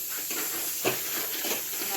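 Puris fry in a pan of hot oil at home with a continuous close hiss and sizzle. The level stays steady with slight swells and no talk.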